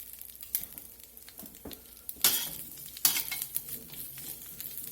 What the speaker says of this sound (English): Get a little olive oil in the skillet. Lay the asparagus down.